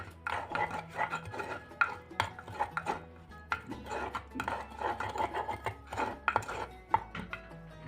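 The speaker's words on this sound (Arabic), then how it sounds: "هقلب بقى ميه الليمون دي مع التتبيله." A utensil scrapes and clinks against a bowl in steady, rhythmic strokes, stirring lemon juice into a mackerel marinade, close up and continuous, with no talking.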